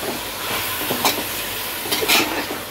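Chicken pieces fry in hot oil with browned onions for tahari, giving a steady close hiss broken by a few brief crackles and pops.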